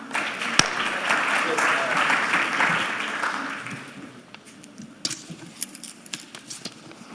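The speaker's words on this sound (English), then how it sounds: "Round of applause for my panel." Conference audience clapping for a panel at a diaspora investment event, a full burst of applause for about four seconds that fades into quieter room noise with a few scattered claps and clicks.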